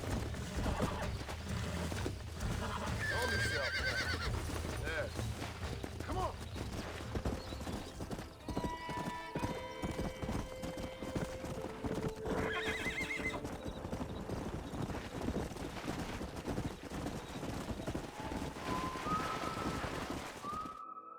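A stallion in the Western game Red Dead Redemption whinnies and snorts while hooves clip-clop steadily, with bright whistle-like tones and ambient game sound running throughout.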